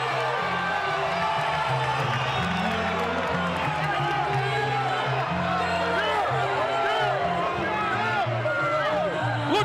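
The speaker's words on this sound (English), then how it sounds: "The crowd is going bonkers." A boxing arena crowd roars and cheers loudly and continuously during a championship fight, with whoops and scattered clapping, while a commentator talks over the noise.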